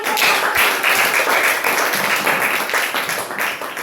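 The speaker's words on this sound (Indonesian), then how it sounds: "Tepuk tangan." A classroom group of students claps together during a civics lesson, brisk close-up clapping with a loose shared rhythm, bright and fairly loud, continuing evenly for a few seconds.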